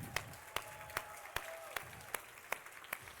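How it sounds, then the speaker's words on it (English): Audience applause at a Purium company event with founders on stage. Distinct claps land in a steady rhythm about every 0.4 seconds over a soft background of scattered clapping, fairly quiet overall. "So give yourselves a round of applause."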